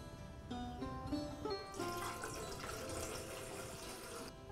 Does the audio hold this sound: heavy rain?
no